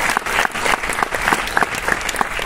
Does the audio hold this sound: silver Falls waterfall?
no